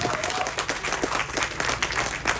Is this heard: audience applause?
yes